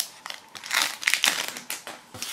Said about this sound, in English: So let's cut open this one.